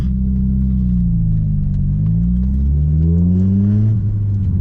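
A Peugeot 406 2.0 turbo taxi engine starts and idles with a low, steady rumble that rises slightly as it revs, heard close up from inside the car.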